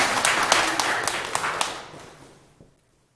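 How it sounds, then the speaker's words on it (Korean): An audience at a Korean Buddhist dharma talk claps, with a burst of sharp, fairly close hand claps that fades away and stops before the final half second. "네, 박수 한번 치시고."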